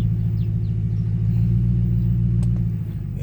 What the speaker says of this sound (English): Yeah, we can move the car now.